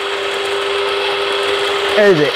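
A Sonifer salad maker chopping a single onion gives off a steady mechanical whir with a constant hum, and a brief grinding warble near the end, loud and close.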